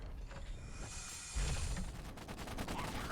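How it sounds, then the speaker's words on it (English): Rapid, crackling bursts of gunfire from a game, a quick volley of shots with mechanical clatter, moderately loud. "I hear gunfire."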